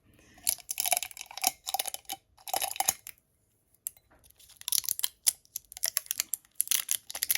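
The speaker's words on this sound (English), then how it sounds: "This tape's actually really good because it's sticky enough that it's stuck down, but it's coming off really easy." Sticky tape peeled in bursts off a Cricut mug press mug, with close, crackling tearing sounds coming in several strips separated by short pauses.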